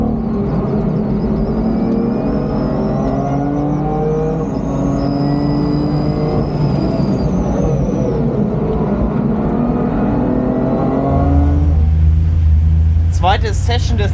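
A race car on the Nürburgring track, its engine droning steadily with rising and falling pitch as it runs, then a louder rumble near the end; a person talks over it.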